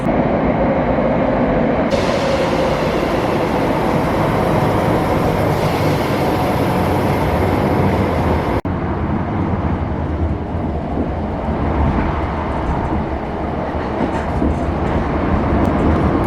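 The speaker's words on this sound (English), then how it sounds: "In the distance I can see my train is at the platform at Central Station" A loud, steady rumble of a Glasgow underground train at the platform fills the clip, with a high hiss partway through and a brief clunk, continuing as a constant drone.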